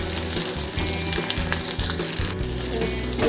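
Chopped onions fry in hot oil with garlic and ginger, giving a dense, loud, constant sizzle close by with a slight bubbling texture and no talk.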